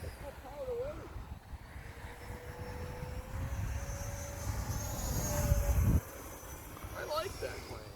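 An E-flite F-15 radio-controlled jet flies overhead with a thin electric whine that rises and falls as it passes, over steady wind rumble, moderately distant.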